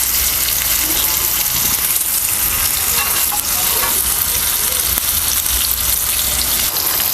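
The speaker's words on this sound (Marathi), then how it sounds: "तर हे बाजू सुद्धा आपल्याला चांगलं असं आहे ना तळून घ्यायचं" Semolina-coated fish fries in a pan with a steady, loud, close sizzle and crackle that holds unbroken throughout, with no talk.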